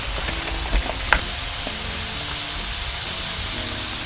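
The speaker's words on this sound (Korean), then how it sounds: "비가 이렇게 온다고?" Steady rain falls on a forest campsite, a continuous broad hiss with a couple of soft knocks near the start and no voices.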